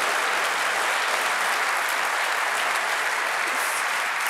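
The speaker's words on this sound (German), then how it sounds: "Applaus mal für den Tiger an dieser Stelle, hat er verdient." A studio audience at a televised talk show gives steady, dense applause that holds at an even level throughout, with no voices on top.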